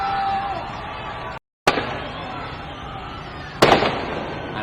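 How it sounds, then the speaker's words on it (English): Fireworks burst during a nighttime street protest in Altamira Square, Venezuela, with two sharp loud bangs cutting through a steady crowd roar, the second followed by crackling. "Fireworks again"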